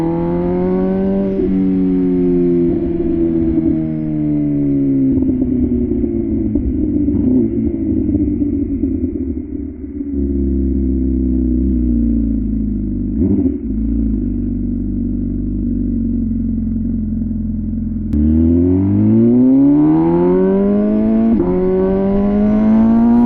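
An MV Agusta Rush 1000 motorcycle's loud exhaust drones steadily while riding, with its pitch falling and rising as the engine slows and then accelerates hard near the end.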